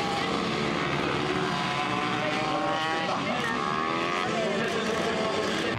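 Several race cars roar off the line together at the start of a race heat, a dense, loud wall of engine noise with whining pitches rising and sweeping across one another.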